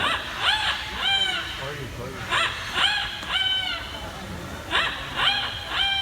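A bird at a bird show imitates a rooster's crow in several repeated bursts, harmonic and nasal, with short gaps between calls over faint background noise.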